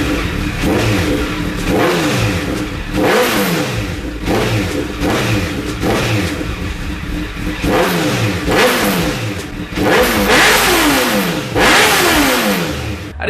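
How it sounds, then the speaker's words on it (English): Warm motorcycle with an aftermarket exhaust, revved repeatedly close up in a residential neighborhood, loud throaty blips rising and falling in a steady series with no talking. "So we'll do a startup and a rev here real quick."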